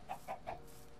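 Three quick, evenly spaced clucks from a Minecraft chicken, faint and close together, followed by quiet game ambience.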